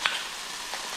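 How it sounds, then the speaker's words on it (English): Oil sizzles steadily in a curry pan of chopped tomatoes, a dense, close crackle with small bubbling pops and no talking. "see the oils are releasing in now. You see the bubbles sizzling away at the top"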